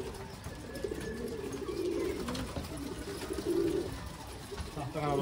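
Pigeons coo in soft, repeated low bursts nearby, with someone talking over them in Turkish.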